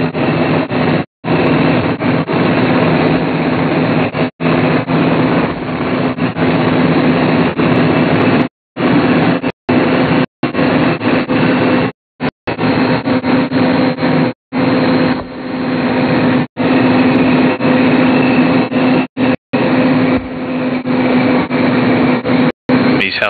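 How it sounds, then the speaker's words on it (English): Helicopters at the Soyuz spacecraft landing zone make a steady, loud low rotor and engine drone with a constant hum, broken by several brief dropouts, with no voices. "These helicopters carried many of the essential personnel to the landing zone"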